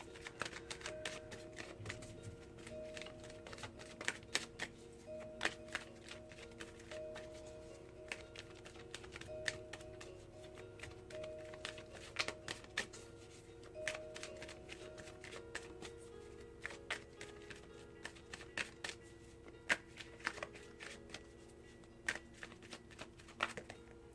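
Tarot cards being shuffled by hand for a daily reading, a soft continuous riffle of papery flicks and taps running steadily under a faint room hum, quiet and close with no speech.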